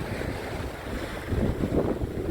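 Strong winter wind on a fishing outing roars and buffets the microphone with a dense, low rumble that swells toward the end, with no speech.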